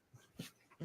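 A dog whimpers softly in a few short, faint, breathy whines spread over under a second, close to the listener with no talking.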